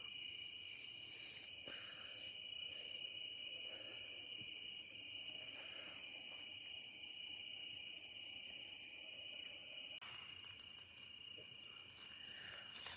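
Crickets chirping at night by the water at a fishing camp, a dense, steady, high trilling chorus that continues without a break and stays fairly faint and distant.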